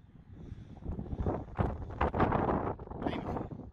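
Gusty wind buffets the microphone outdoors near a parking area in France, rough low rumbling surges that rise and fall in strong bursts, with a person talking over it.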